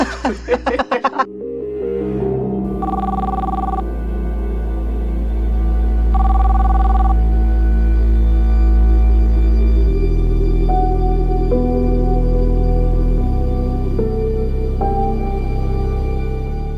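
A phone rings in repeated bursts of a bright electronic tune over a loud, sustained musical backdrop, after a brief clattering start.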